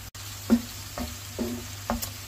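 Minced meat frying with chopped onions in oil in a pan, with a steady faint sizzle and a few soft stirring scrapes at regular intervals, no talk.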